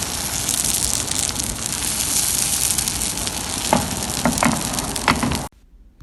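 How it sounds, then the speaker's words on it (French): Batter sizzles and crackles steadily in a hot pan, a close, even frying hiss with a few sharp clicks before it stops. "on cuit le premier côté pendant environ 1 minute"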